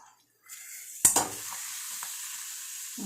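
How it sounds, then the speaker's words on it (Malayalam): Food frying in hot oil, a piece dropped in with a sharp burst of sizzling that settles into a steady, close bubbling hiss with a few light clinks, no voices. "ചൂടായ എണ്ണയ്ക്കകത്ത് ഇങ്ങനെ ഓരെണ്ണ കൂടെ കാച്ചെടുത്താൽ മതി"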